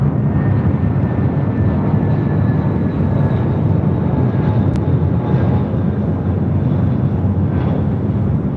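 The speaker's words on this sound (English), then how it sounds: "the flight coming in from Vancouver, United" A United Airbus A320 arriving from Vancouver at LAX rumbles in a steady, dense roar with faint whining tones above, constant in level for the whole stretch and without voices.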